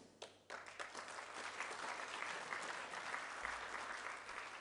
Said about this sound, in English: He definitely deserves this applause.